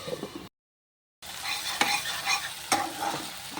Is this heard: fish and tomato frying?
yes